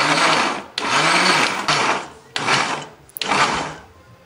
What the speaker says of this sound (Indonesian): Hari ini aku pakai blender.